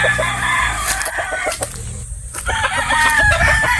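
A Boston broodstag rooster crows loudly and close, with a dense farmyard backdrop of other fowl calling and clucking throughout.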